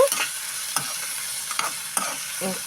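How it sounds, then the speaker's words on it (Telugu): Tomato and coriander stirred into a frying curry: a spoon scrapes the pan in repeated strokes over a steady close sizzle. "టమోటో కొత్తిమీర రెండు కలిపేసాను"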